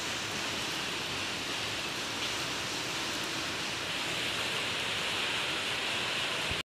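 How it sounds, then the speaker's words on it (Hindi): Heavy rain pours steadily outside at night as a dense, even hiss, loud and continuous throughout, then stops abruptly at the end, with no voices. "बाहर पानी आ रहा है बहुत तेज"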